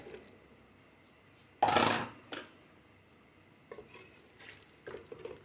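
Bottle gourd being stirred into a beef curry in a pot, one loud burst of scraping and sloshing followed by a few quieter spoon scrapes and knocks against the pot.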